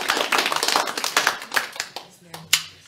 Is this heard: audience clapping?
yes